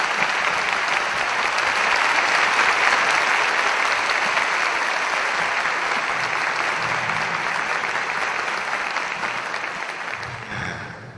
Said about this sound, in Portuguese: Aplausos para os dois que foram maravilhosos.